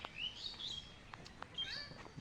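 A dove sits among village trees as faint, high bird chirps and calls come and go over a quiet rural background.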